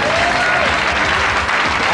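Audience at a live comedy show breaks into dense, steady applause, a loud wash of many hands clapping with no talk over it.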